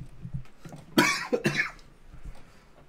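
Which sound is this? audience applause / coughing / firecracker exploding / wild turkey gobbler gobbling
coughing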